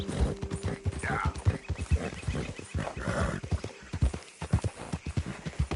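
Horse hooves clip-clopping at a brisk riding pace in Red Dead Redemption 2, a rapid run of close, sharp hoof strikes with snorts and breathy animal sounds mixed in.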